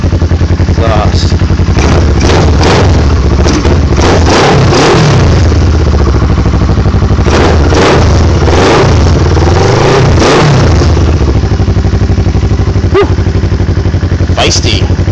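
Kawasaki Ninja motorcycle engine on its first start, revving repeatedly in loud, close bursts that rise and fall over a steady idle, with a throaty exhaust bark.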